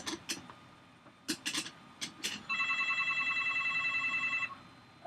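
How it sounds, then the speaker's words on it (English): A telephone rings with a steady electronic trill lasting about two seconds, preceded by several sharp clicks and knocks in a quiet room. "And the phone is ringing."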